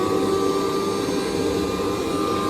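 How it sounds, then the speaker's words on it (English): A pond filter blower running steadily, a loud continuous whooshing drone with a steady tonal hum, close by and unchanging, no voices. "then we can turn the blower on"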